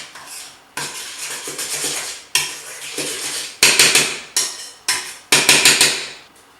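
Wet ingredients for gluten-free porridge bread are stirred in a bowl, giving repeated clattering utensil-on-dish scrapes in bursts of quick strokes, close and alone.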